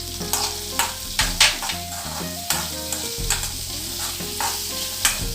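Ingredients for garlic oats dosa, including a pinch of tamarind, sizzle in a hot pan while a spatula stirs them, producing steady frying crackle punctuated by repeated scraping strokes, close and loud with no talking.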